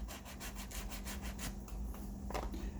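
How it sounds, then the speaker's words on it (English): Steady, continuous abrasive rubbing as the tops of battery cells are sanded, close up, with a rhythmic back-and-forth scratch pulsing under a low hum. No voices. "I'm sanding the top of the cells"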